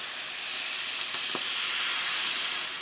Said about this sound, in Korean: 미역을 넣었으면 들기름을 한 번 더 두르고 한 번 더 볶아줍니다.